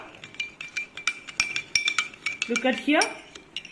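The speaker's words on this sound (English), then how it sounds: "I am adding and I am stirring" A metal spoon stirs salt into water in a glass, giving a quick run of close, bright clinks and scrapes against the glass, with a busier swirl of stirring near the end.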